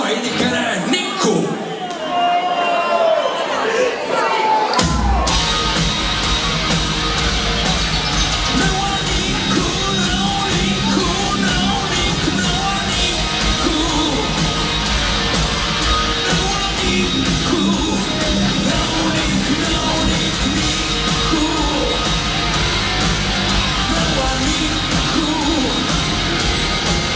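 A rock festival crowd at Sindi Rock shouts and cheers the name Niku. After a brief opening of scattered voices, a loud, sustained wall of yelling and whooping fills the rest of the stretch.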